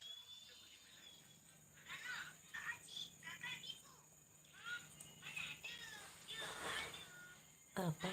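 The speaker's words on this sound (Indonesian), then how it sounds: "Suara apa itu? Kucing." A cat meows several times, high and fairly faint, in a quiet room, with a soft household background hum.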